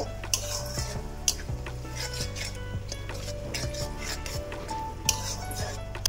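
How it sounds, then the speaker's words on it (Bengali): Bamboo shoot and meat curry is stirred in a kadai, with a ladle scraping and clinking against the metal in an irregular rhythm over a low sizzle and a steady background hum. "ফুল দিয়ে এটাকে লাড়াতে থাকবো যতক্ষণ না তেল তেল বেরোচ্ছে সাইডে দিয়ে"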